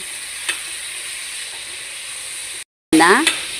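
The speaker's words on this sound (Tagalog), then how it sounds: "igisa natin yung bagoong isda. Gisang mabuti ha." Fish bagoong sautéing in a pan sizzles and crackles steadily, joined after a brief cut by louder stirring scrapes and a rush of fresh frying hiss near the end.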